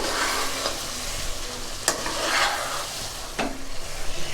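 A pan of mint chicken curry being stirred with a spatula, a steady close sizzle with a few sharp scraping strokes against the pan, fairly loud and without talk.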